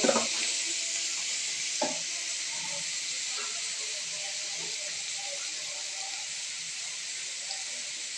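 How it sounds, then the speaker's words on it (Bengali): Noodles with salt stir-fry in a hot pan, giving a steady, even hiss of steam and sizzle with a few faint scrapes near the start. "মতন লবণ দিয়ে নাড়াচাড়া করে ভেজে নিচ্ছে।"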